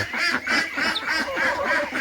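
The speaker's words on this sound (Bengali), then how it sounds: "আমি আপনাদেরকে দেখাচ্ছি আমার হাঁস মুরগির সকালবেলার খাবারের দৃশ্য" Domestic ducks and chickens at their morning feeding, giving a rapid run of repeated nasal honking calls, close and fairly loud, with no talk.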